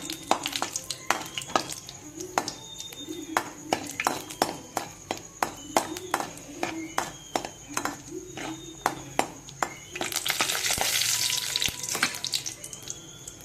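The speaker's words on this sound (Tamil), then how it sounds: "நெய்யை ஊற்றி முந்திரி பருப்பு போடணும் முந்திரி பருப்பு போட்டு கலக்க வளர்க்கணும்" Cashews fry in ghee in a pan while a spoon stirs them, giving rhythmic scraping clacks over a soft sizzle, then a burst of hissing near the end; people talk faintly in the background.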